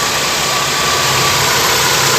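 A Toyota Corolla twincam liftback engine idles steadily up close, a dense, even mechanical rumble with a light ticking edge that holds constant throughout, with no voices.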